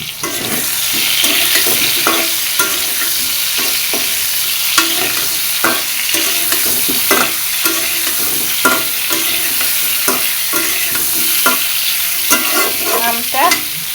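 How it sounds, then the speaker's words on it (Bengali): Panch phoron spices frying in hot oil for a sour mango dish, a steady loud sizzle with repeated stirring clicks throughout and no talking. "তেল গরম হয়ে গেছে পাঁচফোড়ন দিয়ে দিলাম"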